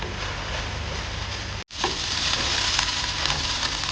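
Mutton curry mixed and stirred in a hot pan, a steady close sizzle with soft scraping, broken by a brief silent gap before the frying resumes; no voices.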